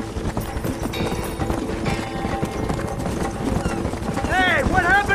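Hooves clatter in a rapid gallop under a dense soundtrack in Red Dead Redemption on PS5, with a horse whinnying near the end.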